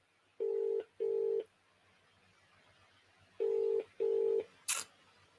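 Outgoing phone call: four clean keypad tones in two pairs over a faint low hum, ending with a short bright burst, with no talking.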